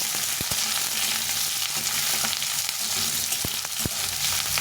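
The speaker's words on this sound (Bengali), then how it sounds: "পেঁয়াজটা একটু ভেজে নেব একটু হালকা করে ভেজে নেবো" Onions lightly frying in oil in a pan for a soya chunk do pyaza make a steady, close, even sizzle with a few faint clicks of stirring, and nobody talks.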